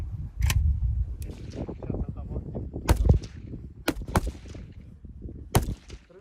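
Gunshots at a weapons training session, several sharp separate cracks spaced irregularly over a few seconds and heard close, over a rumbling background with voices.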